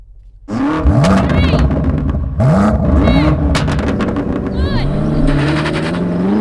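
A BMW M8 launches hard from a standstill in a drag race against an M5, its engine roaring loudly through rapid upshifts with sharp rising sweeps, close and sustained, while a person talks over it.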